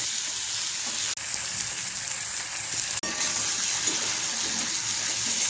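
Green chillies and tomato pieces fry in a pan on the way to a smooth paste, giving a continuous even sizzle close by, broken by two brief sharp clicks.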